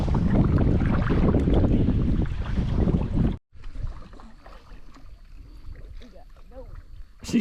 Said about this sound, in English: All right, paddling on. I think we got a couple more turns. Pretty good wind right in our face right now.